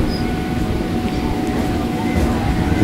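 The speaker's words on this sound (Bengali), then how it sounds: "এই যে একটা ট্রেন যাচ্ছে" A Hasnabad local train, a down service on the Kolkata suburban line near Majerhat, rumbles past with a steady low rolling drone and faint squeals over its nearly three seconds.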